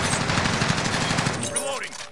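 Rapid automatic gunfire in the Call of Duty: Warzone video game, a dense rattling burst of shots for about a second and a half, loud and close, then tapering off with a faint voice near the end.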